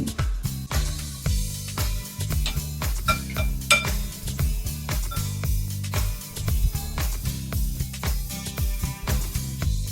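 A spoon shapes balls of batter for deep frying in oil heated to about 160 degrees, for fish-cake-style fritters: repeated metallic clinks and scrapes against a bowl or pan in an uneven rhythm, close, with faint sizzle beneath.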